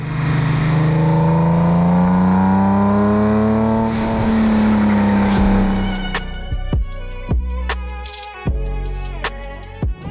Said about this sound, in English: if you listen very closely, at lower speeds, I can hear the throttle body opening